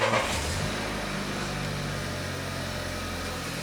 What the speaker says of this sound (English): just turn the ignition on